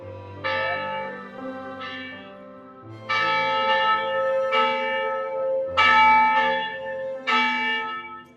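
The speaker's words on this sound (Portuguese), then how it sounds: "Tá bonito os sinos tocando agora" Church bells ring at the Santa Barbara mission in repeated, overlapping strikes with a long resonant ring, clear and fairly close, with no talking over them.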